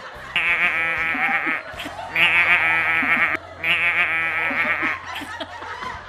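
A human voice imitates a goat, letting out three long, wavering bleats in a row, loud and close, with faint background noise between them.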